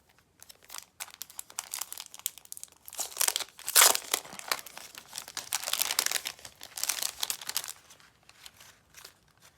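Plastic packaging of a sticker pack crinkles close up as it is handled, in irregular bursts of crackling with a sharp rustle near the middle and fainter handling toward the end.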